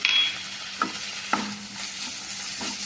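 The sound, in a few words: sautéing capsicum and ginger garlic paste on low flame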